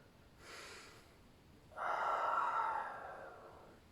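Two slow, audible breaths during a Pilates shoulder mobility exercise, a short inhale followed by a longer, fuller exhale, close to the microphone with no talking.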